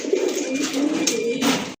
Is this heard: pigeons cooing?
yes